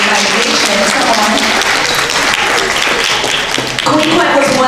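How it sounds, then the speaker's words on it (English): Audience applause fills a descendants' reunion gathering, a dense steady wash of many hands clapping throughout, loud and sustained, with a brief dip near the end before it swells again and voices mixed in. "So come on, let's clap for that."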